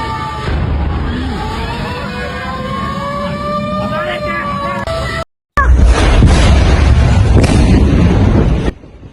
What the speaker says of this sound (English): It appears this was an explosion caused by a severe accident.